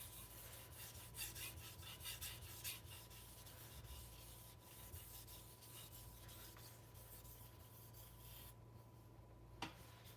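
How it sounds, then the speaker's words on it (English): A 52100 steel knife blade drawn in full strokes across a 1000 grit sharpening stone, a soft repeated rubbing rasp, faint and close, with a steady hum underneath. "here I'm doing full sharpening strokes because this stone barely cuts when using very light pressure"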